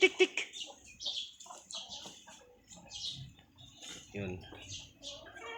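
Chickens cluck softly around a hen with a chick on a backyard farm, faint scattered clucks under someone talking nearby.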